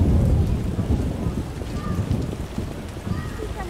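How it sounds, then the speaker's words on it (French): Rain falls steadily with a low rumble of thunder in the video game The Witcher: Enhanced Edition, loud at first and easing slightly, close and enveloping. "Tout a l'air si triste quand il pleut."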